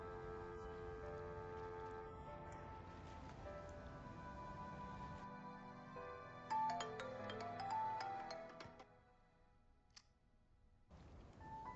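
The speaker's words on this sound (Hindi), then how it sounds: "फोन।" A phone ringtone plays a melodic electronic tune, with tinkling notes and faint clicks near the end.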